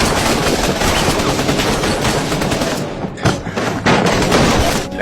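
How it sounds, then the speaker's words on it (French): Machine gun fire in a battle scene of an audio drama, a dense, loud continuous barrage of rapid shots with heavy thuds and booms, briefly easing before resuming. "Chaque coup de feu annonçait la mort imminente."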